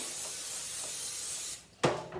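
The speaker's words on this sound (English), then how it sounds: "I'm going to spray the pans with some vegetable oil" Vegetable oil sprayed from a can onto disposable tin foil pans: a long even aerosol hiss that stops, then a second short, louder spray burst follows after a brief pause.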